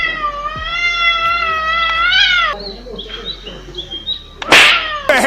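An angry cat yowls in long, wavering, drawn-out cries, loud and close, then gives a sharp, harsh spitting burst near the end.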